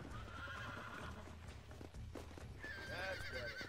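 A horse whinnies loudly in Red Dead Redemption, its neigh rising and wavering near the end, while hooves clip-clop in a steady rhythm beneath; the close animal sounds stand alone without talk.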